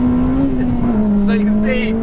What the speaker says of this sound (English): they're a high revving engine, all right? They rev really high.